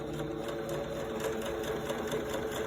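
A sewing machine runs steadily, stitching a fabric face mask, a quiet, even mechanical whirring with a fast regular needle rhythm throughout.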